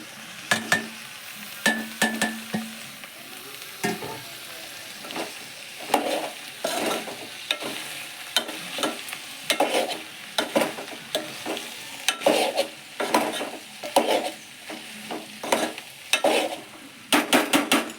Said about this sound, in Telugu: దీంట్లోకి కోసి పెట్టుకున్నటువంటి టమాటా ముక్కలు కూడా వేసుకుందాం.